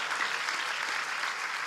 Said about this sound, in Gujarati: એને જોરદાર તાળીઓના નાદ સાથે વધાવો